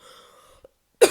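A quiet hum, then a single sharp cough close to the microphone at the very end.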